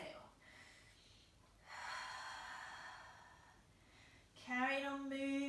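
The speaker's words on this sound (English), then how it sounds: "See if you can actually breathe as loudly as you can." A person takes deliberate, loud breaths during a home yoga flow, with long forceful exhales rushing out close to the microphone and a sharp, snort-like breath near the end.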